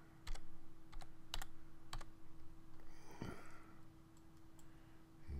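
Keystrokes tapping on a computer keyboard as text is entered, scattered sharp clicks at an irregular typing pace over a steady low hum, fairly close and moderately quiet.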